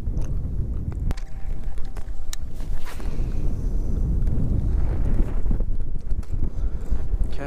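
Gusty wind buffeting the microphone beside a pond during bass fishing, a low rumbling roar with a few light clicks and knocks, no speech.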